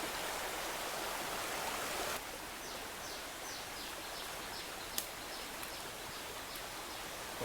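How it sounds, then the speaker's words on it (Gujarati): A natural stream flows through jungle near Bhavnath in Junagadh, giving a steady, soft rushing wash of water with faint, brief chirps over it and no speech. "આવા બધા સરસ મજાના કુદરતી પાણીના વેણકાઓ"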